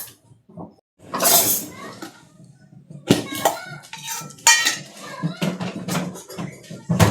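Pots and metal utensils clatter and clank while a reheated vegetable bhaji is checked in a home kitchen. The knocks come close and loud in irregular bursts with short pauses between them.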